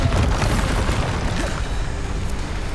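A Bombarda spell explosion from Hogwarts Legacy lands as a loud, deep booming blast that rolls on as a dense rumble through the short moment.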